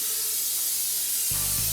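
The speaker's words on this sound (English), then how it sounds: "So we're going to go ahead and spray these 2 with your canola oil spray." Canola oil cooking spray hisses briefly onto mini muffin pans, one short close burst near the end with no talking.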